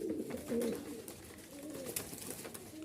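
Soft, close cooing from a high-flying Giribaz female pigeon kept with a young Gola pigeon, a few low murmuring coos alone against quiet background.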